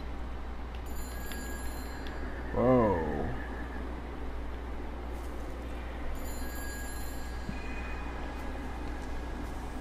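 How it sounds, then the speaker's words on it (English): A telephone rings faintly in the background of the video game Everybody's Gone to the Rapture, a thin, steady high ring in two spells over a low ambient hum, with a brief spoken exclamation in between. "I hear a phone."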